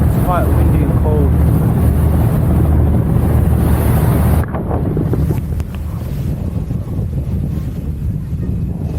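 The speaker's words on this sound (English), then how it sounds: "It's quite windy and cold." Strong wind buffets the microphone aboard a cruise boat on the Bosphorus in Istanbul on a cold day, roaring loud and steady throughout with the boat's rumble beneath.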